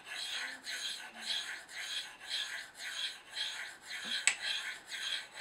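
A knife blade is drawn down the ceramic rods of a Spyderco Sharpmaker in steady up-and-down strokes, each a bright rasping scrape, roughly two per second, close and moderately loud with one sharper tick near the end.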